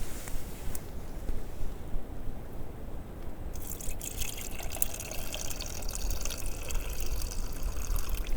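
Water trickles and splashes steadily into a container outdoors at a snowy winter campsite, a continuous liquid pour with a brighter hiss joining partway through.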